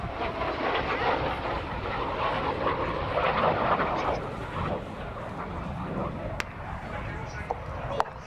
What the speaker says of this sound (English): Fast pass, although not as fast as they used to do in the old days at Farnborough, but fast enough for us.